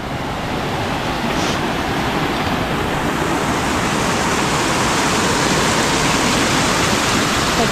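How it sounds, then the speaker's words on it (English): Water rushing steadily at a stream crossing on the Pinhoti backpacking trail, a loud, continuous broadband roar close by with no voices. "Had another water crossing here."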